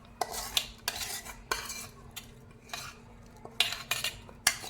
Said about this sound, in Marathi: आता हे जे मिश्रण आहे ते आपण बॅटरमध्ये घालणार आहोत